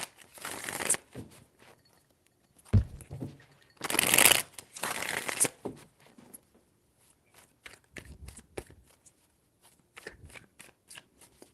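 Tarot cards are shuffled by hand in quick papery bursts, with several loud riffles separated by pauses and softer taps and slides of the deck. The sound is close and dry, and there is no talking.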